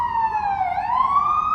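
A police car or ambulance siren sweeping past outdoors, a loud steady wail with a slight pitch dip and rise, heard alone without talk.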